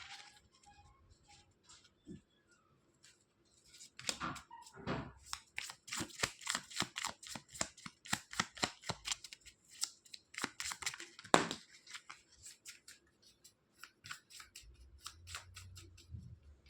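A tarot card deck is shuffled close up in repeated riffling bursts of quick, crisp flicks and snaps, with quiet pauses between the runs and no speech.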